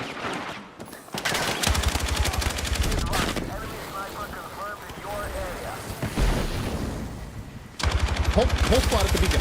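A light machine gun firing in a video game, heard as long rapid strings of shots in steady bursts, loud and close, with voices talking excitedly over the gunfire.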